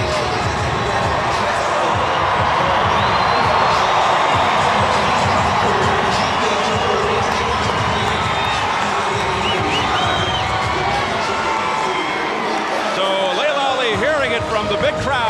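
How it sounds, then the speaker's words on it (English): Big arena crowd at a boxing match roaring and cheering, a loud, sustained wall of voices and whoops filling the space throughout, with an announcer talking over it. "Fans roaring and cheering every time they see him on the big screen here."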